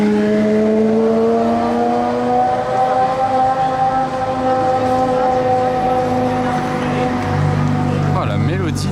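Ferrari 355 engine climbing a hill in Monaco traffic, a high, rising melodic wail with gear-change pitch steps, loud and close, with a voice speaking over it.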